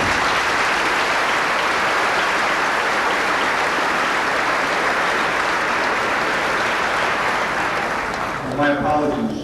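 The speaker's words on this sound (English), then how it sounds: "Please give a round of applause." Applause from the audience at a 1990 graduation ceremony, a steady dense wash of clapping that holds for about nine seconds before thinning out, with some faint voices at the very end.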